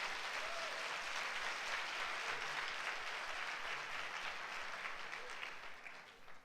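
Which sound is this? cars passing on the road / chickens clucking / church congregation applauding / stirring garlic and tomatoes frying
church congregation applauding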